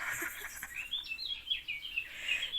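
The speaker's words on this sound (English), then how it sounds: "Bird chirping." Small birds chirp in a quick series of thin, high tweets, fairly faint and slightly distant, over a quiet background.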